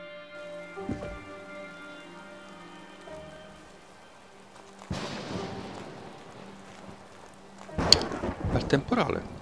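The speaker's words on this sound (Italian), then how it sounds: "Temporale." Thunderstorm in the video game Old Man's Journey: a sudden broad burst of rain and thunder cuts in mid-clip and builds into louder, crackling bursts near the end, over soft game music tones.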